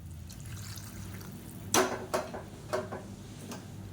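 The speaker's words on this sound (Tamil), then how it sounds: "வந்து நல்லா சூடான தண்ணியாக சேர்த்துக்கலாம் அந்த காய்கறி வேகிறதுக்கு" Hot water poured into a pan of sautéed drumstick, brinjal and raw mango for sambar, heard as a few splashy pours and drips over a steady low kitchen hum.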